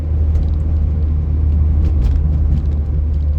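A low, steady engine rumble from a pre-facelift Mazda MX-5 Mk3 hums continuously, deep and smooth, heard from inside the moving car.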